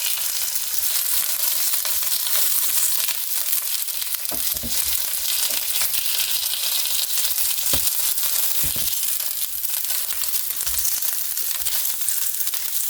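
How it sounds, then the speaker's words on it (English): Food sizzles and fries steadily in a hot pan at about 400 degrees in a home kitchen, a constant close crackle with occasional pops and stirring clatters, with no talking. "Man, that is sizzling."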